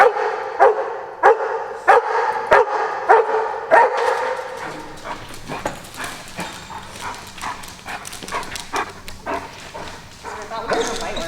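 An eager, highly motivated scent work dog barks in a quick rhythmic series of sharp, close barks that later become more scattered, with people talking nearby.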